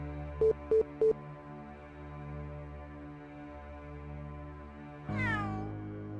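A cat meows in the video game Undercover AD2025: three short bright chirps over a steady low hum, then a longer, louder drawn-out meow near the end.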